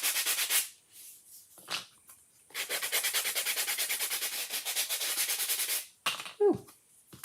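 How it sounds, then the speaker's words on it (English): Hand sanding a painted surface up close: a quick rasping burst, then a long spell of rapid rhythmic back-and-forth scrubbing, followed by a brief squeak. "that sanding does help"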